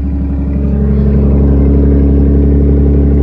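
A 2003 Infiniti G35 engine fitted with a Pedal Commander, heard up close and loud as a steady, throbbing idle with a pulsing rumble that gently builds and holds.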